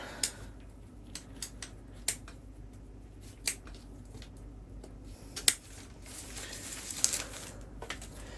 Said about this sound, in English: I've got to try and use my scissors like that